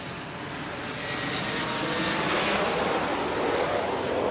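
A Boeing 737 MAX jet passes near Heathrow, its engine noise a broad, steady roar that builds gradually and stays loud, heard alone without talk.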